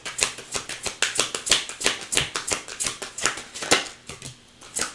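Cards being riffled and shuffled in quick bursts of crisp, fluttering snaps, close and steady, with no voices.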